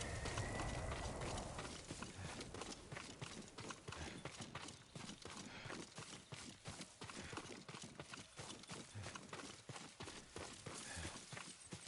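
Horse hoofbeats in Ghost of Tsushima, a steady clip-clop of repeated hoof strikes at a trotting pace, moderately faint under an outdoor ambience.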